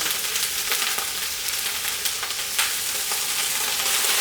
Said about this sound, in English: And now we can also dump in our tomatoes.